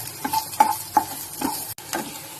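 Small onions and curry leaves sauté in hot oil for a crab rasam, a bright sizzle punctuated by four or five rhythmic scrapes and taps of a spoon stirring the pan.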